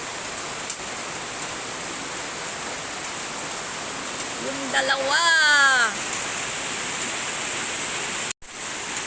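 Heavy rain falls outside with no wind, a constant broad wash of water that stays steady throughout while a person speaks briefly in the middle.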